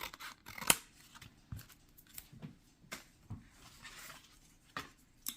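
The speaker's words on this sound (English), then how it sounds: "I'm just gonna cut up and cut up" Scissors snip through matchbook paper in a quiet crafting setting, a string of short crisp cuts at an uneven pace, close and fairly soft, with no voices.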